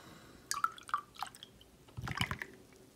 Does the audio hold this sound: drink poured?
yes